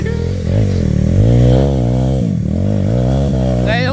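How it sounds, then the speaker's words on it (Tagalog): Trail motorcycles revving hard in thick mud on a Bulacan trail ride, engines whining and surging up and down in pitch at close range, with a voice talking over them. "Umiiyak pa ang mga motor."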